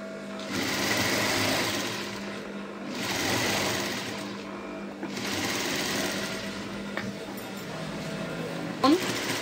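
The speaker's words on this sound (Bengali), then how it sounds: "এই যে পট্টিটার ওপর দিয়ে আমি একটা চাপ সেলাই দিচ্ছি" Sewing machine running in repeated bursts while top-stitching a fabric strip on a kurti, the steady motor whir rising and falling across several runs with short pauses between them.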